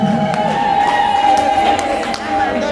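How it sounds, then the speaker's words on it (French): Crowd noise and cheering rise from an audience at a launch ceremony for twelve preschool teaching guides in the DRC, a steady, full wash of sound with a sustained tone running through it. "On applaudit encore, on fait du bruit"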